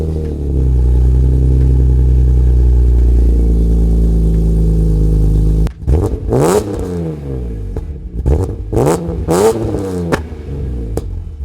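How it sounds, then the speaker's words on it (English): A 2003 BMW E46 ZHP is heard up close. A loud, steady hum runs first, then the engine revs sharply several times, with rising and falling sweeps separated by short pauses. "I'm gonna hop in the car now, start it, and give you a bit of an exhaust clip"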